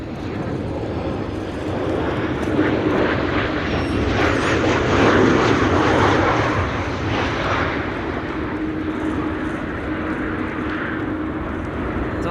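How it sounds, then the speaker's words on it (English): A Transavia airliner landing at a windy Amsterdam Schiphol, a loud, broad jet roar that builds to a peak as it passes close, then slowly eases off, with wind noise throughout. "Transavia have arrived from Salzburg. Landed without any issues."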